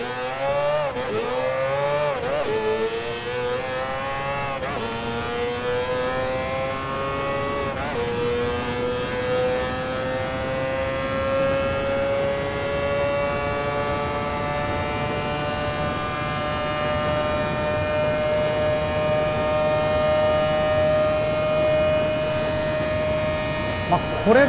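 Mazda 787B race car in Gran Turismo Sport, its rotary engine revving up through low gears with rising and falling harmonic whine, then holding a steady, loud, high drone for a long stretch.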